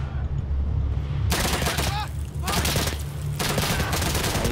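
Tommy gun bursts in the video game Day of Infamy, rapid rattling volleys in several clusters with a steady background rumble.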